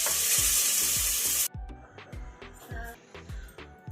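Fryum fingers frying in hot oil in a pan at home. A loud, dense sizzle cuts off abruptly, then the spatula scrapes and stirs in a rough rhythm with quieter frying underneath. No one speaks.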